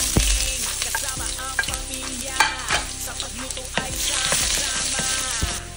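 Ginger and garlic sauté in a hot pan for a Filipino coconut tilapia dish: a continuous loud sizzle broken by repeated scraping stirs and utensil taps.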